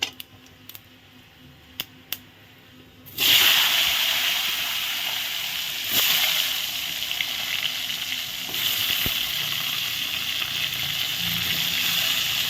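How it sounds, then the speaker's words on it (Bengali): Potatoes tipped into hot oil seasoned with dry red chillies and whole cumin, for a rohu curd curry: quiet pan noises first, then a sudden loud, steady sizzle and spatter that carries on to the end, up close with no talking. "এখন আলুগুলো দিয়ে দেবো"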